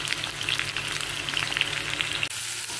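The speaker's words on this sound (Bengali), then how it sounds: "একসাথে আলু পটল ভাজলাম" Potatoes and pointed gourd fry together in a pan with a steady, dense sizzle that holds evenly throughout and dips briefly near the end, with no voices.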